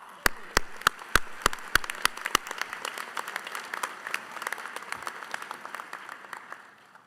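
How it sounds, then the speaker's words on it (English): Graduates at a 2021 winter commencement ceremony break into applause: a few loud, crisp claps from close by ring out first, then a broad wash of clapping from the crowd spreads through a large hall. "Give yourselves a round of applause."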